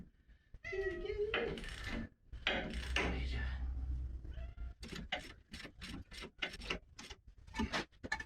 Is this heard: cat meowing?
yes